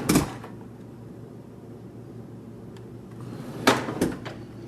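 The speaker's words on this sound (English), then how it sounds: "And what happens when you open the bottom drawer?" A Sub-Zero freezer's bottom drawer, with no toe kick fitted, opens with a quick scrape and clunk at the start, then a quiet low hum, then another pair of sliding knocks a few seconds later.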